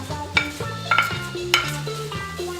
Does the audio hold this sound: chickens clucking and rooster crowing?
no